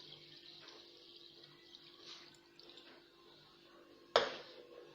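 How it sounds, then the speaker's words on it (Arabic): Milk is poured onto washed rice in a clay cooking pot: a sudden splashing pour starts near the end and fades quickly after a quiet kitchen background. "هنضيف بقى اللبن"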